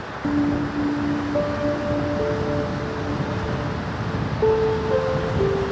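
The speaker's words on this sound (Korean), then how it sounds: "파도 소리 들리시죠? 그 시원한 바람 소리." Steady ocean surf washes continuously on the coast at Gochang, South Korea, mixed with wind noise buffeting the microphone, with faint tonal hums drifting in the background.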